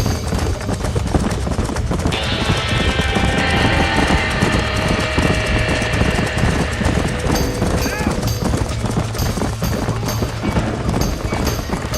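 A horse gallops with steady clip-clop hoofbeats in the Western video game Red Dead Redemption, during a barn-fire scene, loud and continuous under a busy game soundtrack of music and effects.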